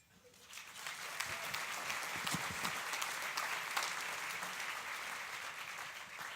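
Applause from an audience at a Denver kids event swells in quickly and holds as a full, sustained round of many people clapping, with a few sharper claps standing out near the start.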